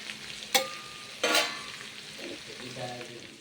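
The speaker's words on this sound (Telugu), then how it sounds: "పల్లీలు, బెండకాయ ముక్కలు బాగా మీడియం ఫ్లేమ్లో పెట్టి మధ్య మధ్యలో కలుపుతూ బాగా ఫ్రై చేసుకోండి." Peanuts and okra pieces fry over a medium flame, a close steady sizzle broken by a couple of sharp scrapes and clacks from stirring.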